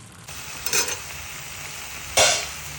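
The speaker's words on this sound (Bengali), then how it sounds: "সেই মাছটা দিয়ে দিলাম, নাড়াচাড়া করে মশলার সাথে মাছটা সুন্দর করে কষাবো" Prawns being stirred and fried in spice paste with green chili for chingri malai curry, a low background sizzle broken by two short scraping stirs, the second louder and sharper, close to the pan.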